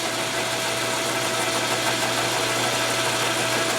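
A motorized flywheel truing tool for Milwaukee-Eight, Evo and Twin Cam crankshafts runs close by with a loud, steady mechanical hum and a constant whine, unbroken throughout.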